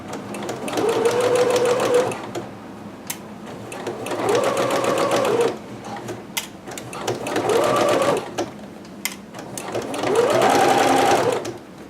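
A sewing machine stitches kimono fabric in four long runs of rapid whirring, each a couple of seconds long, with short pauses between, close and clear.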